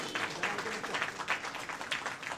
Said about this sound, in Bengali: একটু জোর করে করতালি হোক সকলে মিলে।